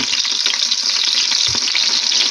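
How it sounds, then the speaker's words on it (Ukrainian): Steady, loud sizzling of chopped chicken cutlets frying in a hot pan, a continuous crackling hiss with faint stirring underneath. "І смажу з другої сторони."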